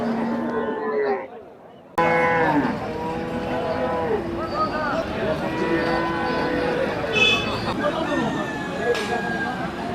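Cattle low and moo at a busy cattle market in Kalampur, with repeated calls rising over crowd chatter and people talking nearby; a brief quieter gap opens near the start before the market noise returns.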